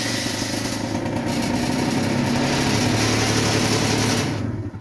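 A motorbike with a new battery, sitting on a table stand, starts on the electric button and keeps running, a loud close engine drone with a steady buzzing rattle that holds for several seconds before easing off.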